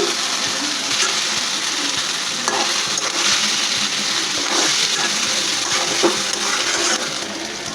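Potatoes go into a spiced sakos fish curry frying in a pot, setting off a loud, continuous sizzle with wet stirring and splashing throughout.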